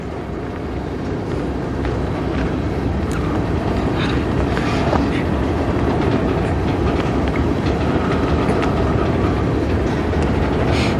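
A CN freight train rolls slowly into a rail yard in Sarnia, Ontario, with a loud, continuous rumble, clanking wheels and squeaks, and some wind buffeting the microphone.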